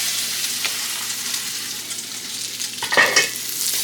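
Seafood searing in a hot pan for a seafood boil, a loud, continuous bright sizzle, with a few scraping stirs and a clink near the end.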